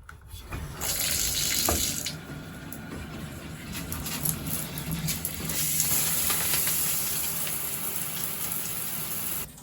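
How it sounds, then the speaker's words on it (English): Steady, loud water spray from a shower pours over potted herb plants in their slitted pots, a continuous hissing rush with faint splatter, running alone without talk for about ten seconds. "And then we actually are going to give them a little shower."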